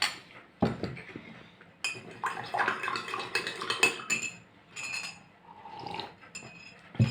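A spoon stirs sugar into a cup of tea, clinking and scraping in irregular bursts, with ceramic knocks and a faint rattle of cutlery, close by.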